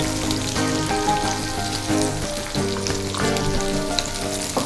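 Onions fry in a pan for gongura egg curry, giving a steady, close crackling sizzle that holds loud through the whole stretch, with some clinking tones over it and no talk.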